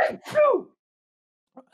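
A person sneezes twice in quick succession during a Geoguessr match, close and loud, followed by silence and a faint brief sound at the end.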